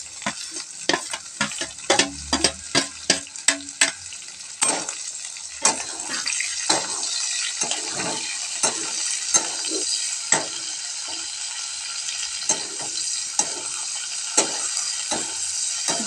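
Chopped onion frying in a hot, browned tadka in a pan for a jackfruit curry, giving a steady loud sizzle with repeated scraping and stirring clicks of a spoon against the metal, close up and without talk.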